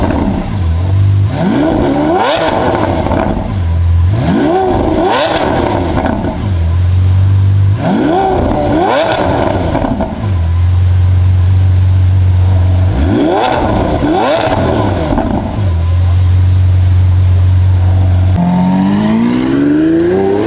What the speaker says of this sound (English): Finally got the Lamborghini exhaust done.